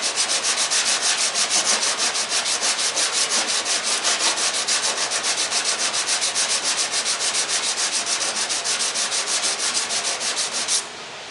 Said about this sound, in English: keeping on with the block sander with the 80